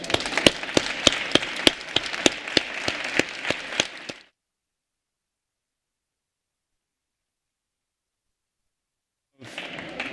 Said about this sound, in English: So I'd like to give everybody a big round of applause.